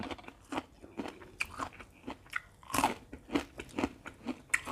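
Crunchy fried herbed fish in a spicy Thai papaya salad being bitten and chewed close up, with a run of sharp, crackling crunches in an uneven rhythm and no talking.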